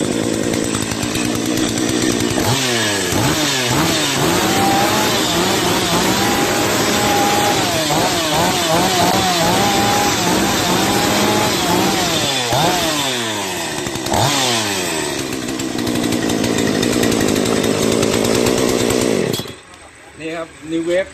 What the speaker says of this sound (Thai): ขั้นแรกเราเปิดโชคนี้ครับเพื่อดึงเอาน้ำมันขึ้นมาครับพอเครื่องสำลักบึ๊กนี้ติดโชคครับแล้วก็สตาร์ท